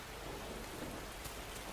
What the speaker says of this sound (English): The rain moves on after just a few minutes.